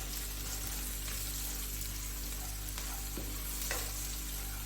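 Cumin seeds frying with green chillies, a steady, moderate sizzle under a constant low hum, with occasional soft stirring scrapes and a faint metallic clink, close by and without talk.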